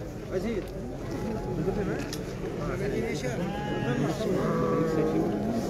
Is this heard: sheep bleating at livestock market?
yes